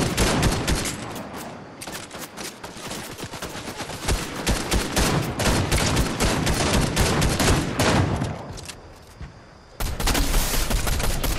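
Rapid, dense gunfire from Fortnite, a video game: bursts of automatic fire and overlapping shots that run almost without pause, loud and close, with a brief lull before another volley.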